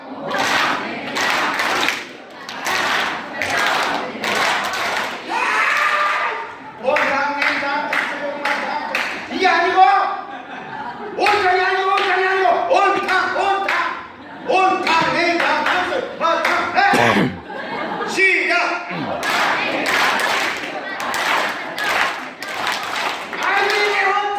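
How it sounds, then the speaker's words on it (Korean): Rhythmic group clapping from participants in a Korean workplace recreation game, coming in patterned bursts with pauses between, mixed with a leader's voice and crowd vocal sounds. "볼펜 넣고 박수 한번 칠게요"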